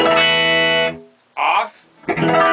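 A Stratocaster electric guitar with modded wiring rings out clean and bright: one long sustained chord, then two shorter strums separated by brief silences.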